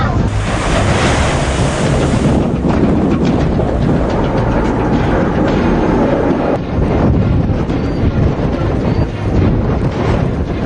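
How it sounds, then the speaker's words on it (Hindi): Storm surge from Cyclone Yaas floods a coastal city: heavy waves crash and churn continuously, loud and close, with strong wind buffeting the microphone throughout and no talking. "कैसे यास जब किनारों से टकराया तो जैसे समंदर शहर में घुस आया, लहरों ने अपनी हदें लांघ दी"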